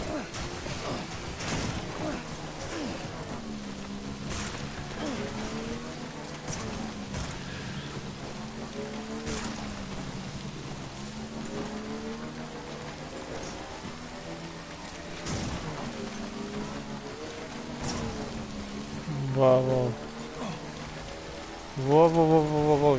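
Steady rain falls in the video game Death Stranding, a soft continuous patter under someone talking over it at intervals, with some bursts of louder noise near the end.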